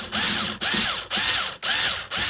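A power drill with a 9/64 bit cuts into a Hot Wheels die-cast rivet in four loud, steady bursts, each about half a second long, separated by brief pauses. The pitch dips and rises within each burst.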